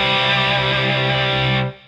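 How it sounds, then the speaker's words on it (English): An electric guitar runs through an Empress Multidrive distortion pedal on its crunch setting, with the gain near maximum. One thick, sustained chord rings loud and steady, then is cut off and fades into quiet. "I'll put the distortion nearly flat out, about 3/4 of the way around, and have it so it's on the crunch side of things."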